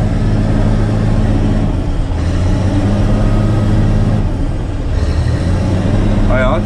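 A Caterpillar 120K motor grader works a roadside, its diesel engine running with a loud, steady low rumble that dips slightly midway, heard close from the cab.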